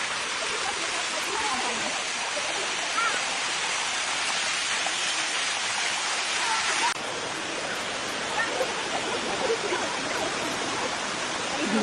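Sticky Waterfalls in Chiang Mai pour steadily nearby, a dense, broad hiss of rushing water that fills the whole stretch, shifting slightly partway through while voices faintly mix in beneath.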